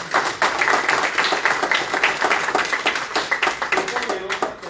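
Congregation clapping during a Spanish-language church service, close and lively with individual claps standing out in a brisk rhythmic patter, probably with voices mixed in.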